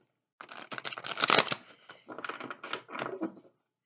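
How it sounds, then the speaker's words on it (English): Tarot cards riffled and shuffled close by in a few quick bursts, a dense papery flutter with short pauses between riffles. "So I'll do one final shuffle."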